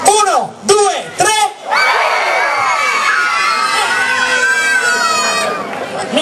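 A concert crowd in Sinnai shouts together on a count, a loud sustained roar of many voices swelling and holding for several seconds after a few short chanted bursts.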